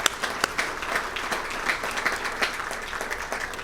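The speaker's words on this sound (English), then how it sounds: "he deserves a round of applause from all of us" Applause from a banquet audience at a fire department awards dinner, a steady wash of many hands clapping with a few sharper claps standing out, filling the room without pause.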